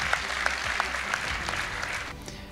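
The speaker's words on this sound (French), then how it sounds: "On peut applaudir vos salariés." An audience at a regional business awards evening applauds employees, a burst of clapping that fades slightly toward the end.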